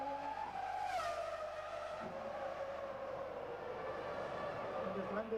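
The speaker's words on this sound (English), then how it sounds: "look at the car working at high speeds over these curves" Formula One car at speed during the 2002 Monaco Grand Prix, a steady high engine whine that sweeps downward as it passes, heard faintly at a distance under broadcast commentary.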